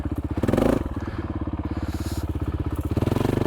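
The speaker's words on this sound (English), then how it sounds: "I am pushing her a little bit, see if it stalls. This is second gear." A Honda CRF450X dirt bike, uncorked, chugging in second gear at low speed with a steady rapid thumping single-cylinder pulse close by, lugging without stalling.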